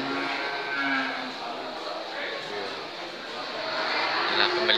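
Limousin cattle at a busy livestock market, with lowing mixed into a dense crowd murmur of people talking throughout, the animal calls moderately loud but partly masked by the surrounding chatter.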